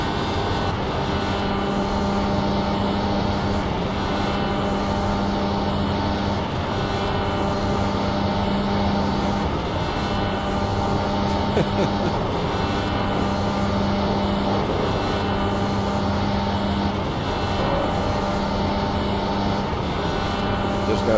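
A Dallara IR18 IndyCar engine in the iRacing simulator holds a steady high-revving drone near 12,000 RPM, bouncing against the rev limiter in a continuous loud whine with strong harmonics throughout.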